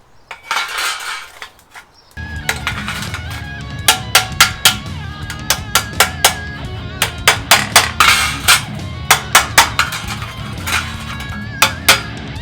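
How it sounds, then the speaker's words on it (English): A body hammer strikes the sheet metal of a 1968 Ford Ranchero quarter panel against a dolly in repeated sharp metallic taps, coming in quick bursts and clusters, close and fairly loud. "I'm going to use just a dolly and a simple little body hammer"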